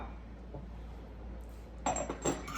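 A small teaspoon tipping sugar into a teacup, heard as a few faint light clinks of metal against china near the end, over a steady low background hum with no talking.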